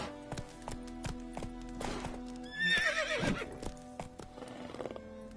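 Horse in The Witcher 3 video game, hooves clip-clopping in a steady beat with a loud whinny partway through, up close.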